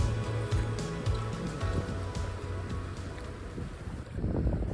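Wind gusts buffet the microphone at a rain-soaked campsite, a low rumbling roar that swells and fades continuously, close and steady, with faint patter and rustle behind it and no talking.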